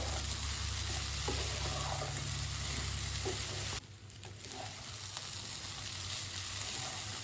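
Tomato rice is stirred in a hot pan, with a steady, close sizzle and spoon scrapes, and the background hum drops partway through as the stove is switched off. No one speaks.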